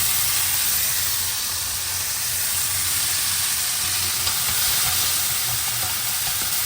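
Shallots and tomato frying in sesame oil in a pan produce a loud, continuous broadband sizzle and hiss that stays even throughout, with no talking.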